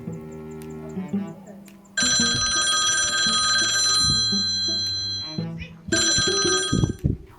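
A mobile phone ringtone plays in two loud bursts of bright, sustained tones, with a pause between them, in a Sundanese comedy sketch about a debt collector.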